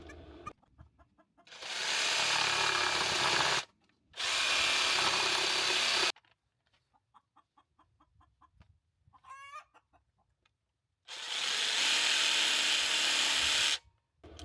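Bursts of a power drill boring holes in pieces for homemade wind chimes, three long loud whirring runs separated by pauses, with rooster crows and clucking chickens heard in the gaps.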